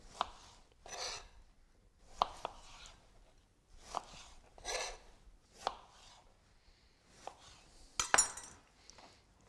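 Knife cutting tomatoes into quarters on a board, a series of sharp separate chops spaced irregularly with quiet gaps, close and clear, no talk.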